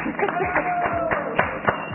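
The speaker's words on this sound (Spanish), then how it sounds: "Un aplauso para Karina." Brief round of hand clapping from a small group at a food and table decorating demonstration, a quick burst of claps lasting a couple of seconds.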